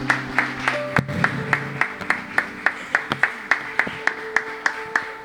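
Church congregation clapping in steady rhythmic time, sharp regular hand claps about twice per second, with sustained worship music or keyboard tones underneath throughout.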